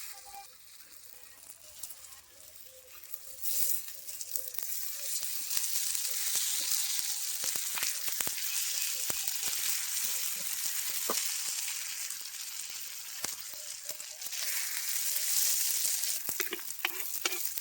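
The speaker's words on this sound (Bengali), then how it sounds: "মশলা কষানো হয়ে গেছে" Spice masala for an egg curry sizzles and fries steadily in a village kitchen, a continuous hiss with stirring scrapes and scattered crackles throughout, close and fairly loud, with no talk.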